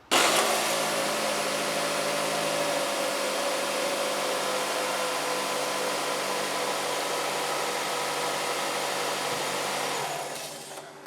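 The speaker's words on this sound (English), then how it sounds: "we'll start up the engine" A Nissan Rogue four-cylinder engine, fresh from new spark plugs, catches quickly and settles into a steady, even running hum that holds close and loud for about ten seconds before easing slightly at the end.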